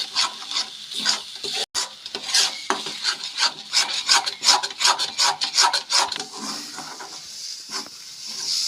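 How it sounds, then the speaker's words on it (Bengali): Vegetable bhorta mash being stirred and scraped around a wok with a utensil, producing repeated close rasping, rubbing strokes in a steady rhythm, loud and alone without any talking. "কড়াইয়ের গা থেকে যতক্ষণ না উঠে আসছে ততক্ষণ এইভাবে নাড়তে যেতে হবে"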